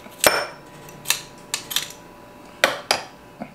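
A garlic press used on garlic clove: several sharp metallic clicks and clacks of the press handles, spaced irregularly, close and fairly loud with no talking.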